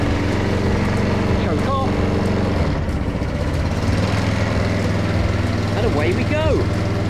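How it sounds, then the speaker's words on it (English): A petrol lawn mower engine runs steadily and loudly throughout, a continuous low drone with someone talking over it. "Pull the starter nice and gently once to prime the fuel, and then another time it should go."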